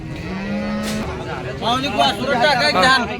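Cows moo at the Sangola cattle market, a long low moo followed by overlapping lowing calls from more cattle, with a busy crowd murmuring throughout.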